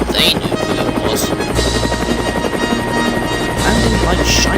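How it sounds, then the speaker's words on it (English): A helicopter whirs loudly with a steady, close rotor drone that shifts in tone as it lands, set against a dense background. "Harold the helicopter touched down gently"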